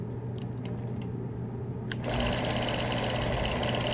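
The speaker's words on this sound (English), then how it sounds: "I'm quilting the background of the tree leaves, looking for a fluid, continuous path" Sewing machine quilting the background of tree leaves in a quilt, a steady fast needle rattle that suddenly grows louder and denser halfway through, close and alone.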